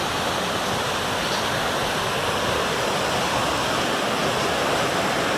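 Flash floodwater at Storm Lake pours wildly into one side of the lake, a steady, loud, continuous broadband rush with no break and no voices.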